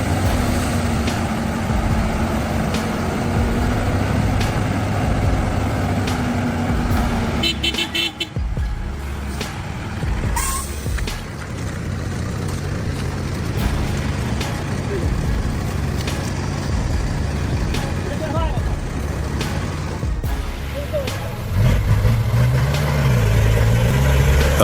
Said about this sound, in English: the giant three-axle vehicle, loaded with towering acacia logs, is struggling on the muddy, slippery road like pouring grease